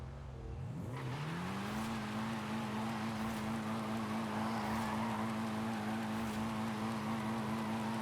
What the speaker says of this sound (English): This is obviously a burnout, as the game suggests, and not me just doing circles.